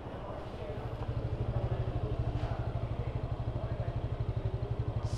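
A motorcycle engine idles steadily after an oil change to Liqui Moly 10W-40, its close, even low-pitched thumping pulse running throughout with a faint clatter on top.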